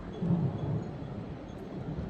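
Thunder rumbling during a storm over the Belledonne massif, a low, distant, rolling roar that swells briefly and then settles into a steady faint grumble mixed with wind and light rain.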